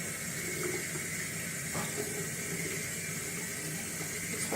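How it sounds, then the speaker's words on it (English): Purified water runs steadily from a spigot into a container, a constant close splashing stream with no pauses. "And then I fill to the top with water. This spigot is purified water."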